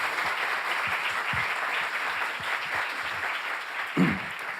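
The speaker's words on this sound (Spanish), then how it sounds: "Un aplauso para ella." A festival audience applauds guest animator Joanna Priestley, a steady, dense crackle of many hands clapping at an even level, with a brief louder bump near the end and a faint high hum beneath.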